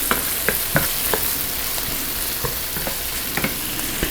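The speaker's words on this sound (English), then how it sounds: "stirring it till we get the bacon starting to brown up" Bacon and onions fry in a pan with a steady, close sizzle, while repeated scrapes and clinks from stirring come through at an uneven rhythm.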